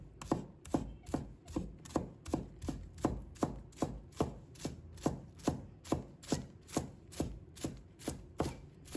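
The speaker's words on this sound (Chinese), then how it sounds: "再准备1把小葱，把它切成葱花" Knife rapidly chopping a bunch of scallions on a cutting board, crisp regular strikes about twice a second, close and clear with no voices.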